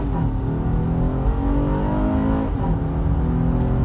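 A 2017 Acura MDX engine revs hard while accelerating out of traffic, a steady loud rising drone heard from inside the cabin with no talking.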